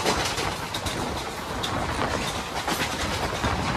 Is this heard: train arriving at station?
yes